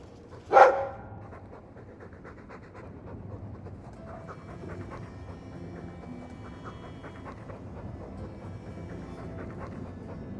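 A Mabari war dog in the video game Dragon Age 2 pants steadily and rhythmically for several seconds after a sharp loud burst at the start, over a low constant background rumble.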